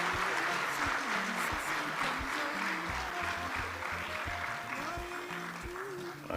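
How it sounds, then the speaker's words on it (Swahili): An audience at a government revenue event applauds without a break, a dense, steady clapping that holds at full strength from start to finish. "Makofi mengi."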